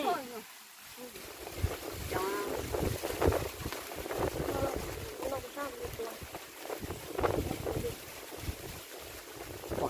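Wind blows outdoors, apparently on or near a boat on open water, buffeting the microphone as a steady rush beneath people talking throughout.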